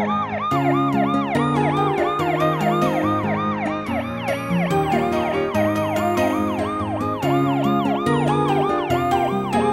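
A rapid, repeating ambulance siren yelp pulses continuously and loudly, with a musical backing underneath throughout.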